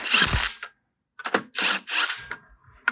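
Ratchet with a socket working on a car wheel of a 1994 Ford Probe, loud close bursts of rapid clicking in several separate runs with short pauses between them.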